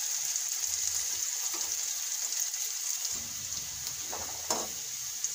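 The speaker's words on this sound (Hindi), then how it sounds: "इनको दरमियानी आंच पर ही फ्राई करना है, कुछ क्रिस्पी हो जाए तब तक हम इनको फ्राई करेंगे" Green chillies frying in oil over medium heat, a continuous soft sizzle and hiss with faint low rumbles and a couple of light spatters.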